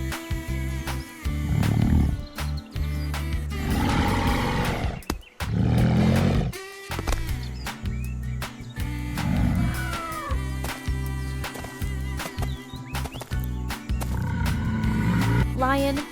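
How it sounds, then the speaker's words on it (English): A lion gives several deep, powerful roars, each a long rumbling call separated by short pauses, loud and close, with soft music playing underneath. "A lion's roar can be heard from far away."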